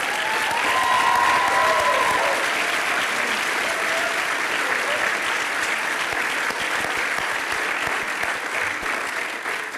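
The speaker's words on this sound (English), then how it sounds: "let's applaud the faculty behind me" Sustained, loud applause from a large commencement audience honoring the faculty, a steady wash of many clapping hands filling the whole stretch without pause, with a faint tone briefly audible early on.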